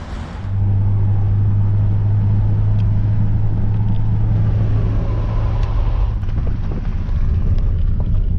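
Car jolting along a bumpy gravel road near a village in western Belarus, a steady loud engine drone and rumble with irregular knocks and rattles from the rough surface throughout.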